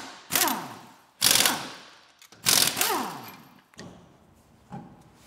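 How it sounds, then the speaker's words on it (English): Loud bursts of a pneumatic impact wrench removing car wheels, four or five rattling whirs of about a second each with rising and falling pitch, separated by short pauses. "we're going to remove our wheels"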